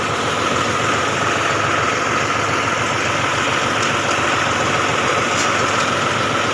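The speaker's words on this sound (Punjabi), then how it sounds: "ਅਜੀ ਟਰੈਕਟਰ ਆਪਾਂ ਨੇ ਲਿਆ ਸਟਾਰਟ ਕਰ" A tractor engine idles with its PTO gear engaged, producing a loud, close, unbroken mechanical drone with steady vibration and no speech.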